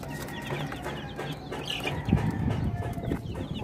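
Hubbard Sasso broiler chickens cluck in a farm setting, a steady murmur of fowl with a few louder clucks and scratchy bursts near the middle.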